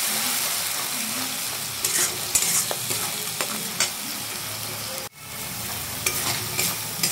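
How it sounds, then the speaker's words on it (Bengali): A spice paste of ground ginger, garlic and salt fries in a pan while being stirred. A steady, fairly quiet sizzle runs under scattered scraping strokes, with one brief dip near the end. "ভালো করে মশলাটা বেশ কিছুক্ষণ টাইম ধরে কষিয়ে নিচ্ছি।"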